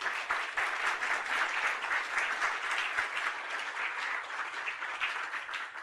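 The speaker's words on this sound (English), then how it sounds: "We give you an applause." Audience applause after a lecture on bio-inspired olfactory sensors, a steady, dense wash of clapping from a seated crowd that holds at an even level throughout, with no voices over it.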